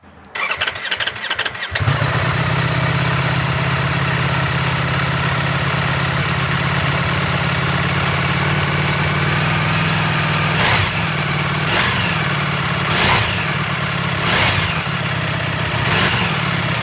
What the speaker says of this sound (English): Now I'm going to show you the exhaust startup from about a distance of 5 feet with the same little microphone.